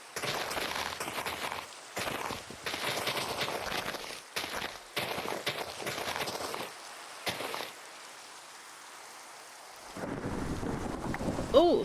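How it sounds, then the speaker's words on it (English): A Minecraft thunderstorm with rain, a dense broadband rush of rain and rumble that cuts in and out in chunks, dropping to near silence before resuming, with no voice over it. "Oh, thunderstorm."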